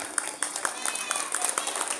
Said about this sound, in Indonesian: Tepuk tangan untuk anak-anak SMP Negeri 1 Kitab